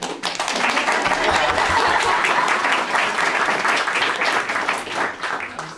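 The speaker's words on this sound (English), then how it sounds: "A little bit of applause is always good, extra applause." Audience applause at a trans liberation talk, a dense steady patter of many hands clapping close and loud for the whole stretch, easing slightly near the end.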